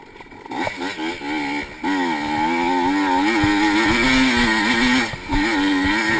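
Loud 1985 Yamaha IT 200 two-stroke motorcycle racing in an AHRMA vintage event at Barber, its engine revving hard and steadily with rising and falling pitch through gear changes, close and continuous with a brief dip.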